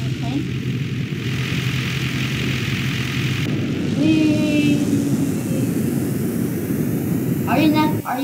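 An airplane engine drones loudly and steadily in an online video game, its propeller hum swelling midway, while players talk over it.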